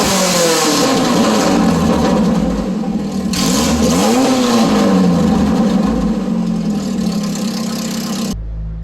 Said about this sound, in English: So I'm gonna do a rev video